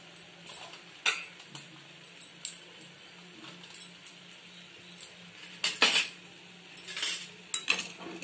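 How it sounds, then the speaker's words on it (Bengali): Egg bhuna being stirred in a pan, with a utensil tapping and scraping the metal in scattered sharp clinks and short scrapes, close but soft against a quiet background and no speech. "দিয়ে নাড়াচাড়া করে নেবেন আমি যেভাবে নাড়ছি সেইভাবে ওপর নিচ করে"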